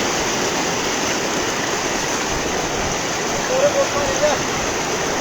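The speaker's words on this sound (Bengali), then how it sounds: "পানির গর্জন আপনারা দেখতেছেন এত আওয়াজ তীব্র আওয়াজ" Floodwater rushes through on Nijhum Dwip island during rain, producing a loud, unbroken roaring wash of current close by, with faint voices underneath.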